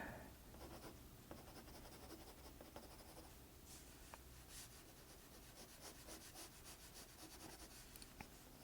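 A pencil shades dark areas on a paper drawing of an eye, giving a continuous close, quiet scratchy rubbing with rhythmic back-and-forth strokes and no talking.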